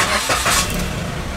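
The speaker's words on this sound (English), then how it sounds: "it's on. The engine is on." A car engine turns over and catches with a short cranking burst that settles into a steady running rumble, loud and close.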